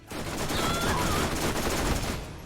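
An SMG in Borderlands fires a continuous rapid burst of gunshots, loud and sustained for about two seconds before tapering off.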